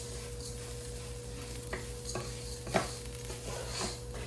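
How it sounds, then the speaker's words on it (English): Vegetables and rice sizzle steadily in a hot pan under a constant electrical hum, with occasional scrapes and clinks of stirring. "It's frying up, and remember, season your rice"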